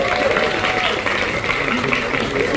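An audience at a press conference for the film Người Mặt Trời breaks into applause, a dense, steady patter of many hands clapping together at moderate loudness throughout.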